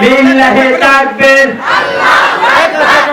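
A large crowd at an Islamic religious gathering in Bangladesh chants slogans in unison, loud and close, in rising rhythmic call-like phrases with brief pauses between them.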